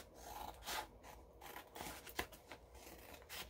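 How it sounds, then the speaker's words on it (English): Scissors snip through envelope paper in a few short, dry cuts, close and fairly quiet, with faint rubbing between strokes and no voices. "we're going to cut the long sides off. And so I'm going to do that with my scissors right now."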